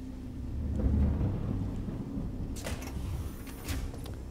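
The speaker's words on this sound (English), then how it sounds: "Thunder not helping," Thunder in the video game Alien: Isolation rolls as a deep, steady rumble with a swell early on and a few sharper crackles later, no voices over it.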